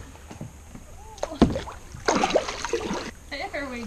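Kayak stuck on a log being pushed off with a paddle, with scraping knocks, a sharp thud and splashing water, while people talk nearby.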